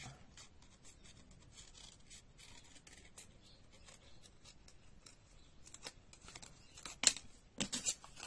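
Scissors cut around material in quick, soft snips and rasps. The sound is faint and close, grows louder near the end, and a quiet voice speaks at times.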